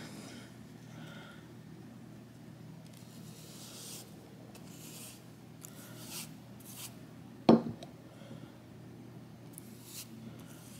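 The contact areas of a HueForge 3D-printed part are roughed up with a quiet, scratchy rubbing in short intermittent strokes, broken by one sharp knock.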